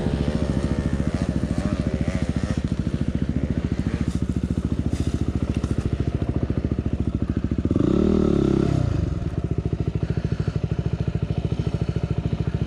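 Dirt bike climbing a hill in Ourimbah State Forest, a steady near engine drone with a brief louder surge of revving midway, with no talk.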